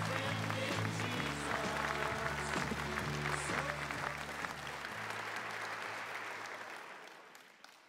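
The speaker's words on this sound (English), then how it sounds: "Let's have one more round of applause for our United States Astronaut Hall of Fame" Sustained audience applause for United States Astronaut Hall of Fame astronauts at their induction ceremony, steady and full for most of the stretch, then thinning and fading out near the end, with low music tones running underneath.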